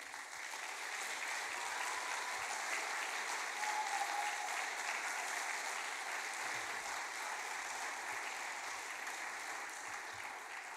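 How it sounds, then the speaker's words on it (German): Warm applause from an audience at a political rally in Greding, a dense, steady clapping from a large crowd that holds level throughout, with no talking over it. "Vielen Dank für den warmen Applaus."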